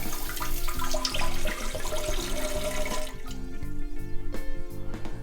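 A TUSHY Classic bidet fitted to a toilet sprays water in a steady rushing, splashing stream, loud and close, mixed with background music throughout.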